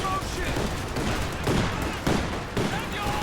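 Battle sounds from the strategy game Company of Heroes 2, with an M15 half-track firing at long range on Volksgrenadier infantry: dense, continuous gunfire and explosions filling the scene at steady, loud volume.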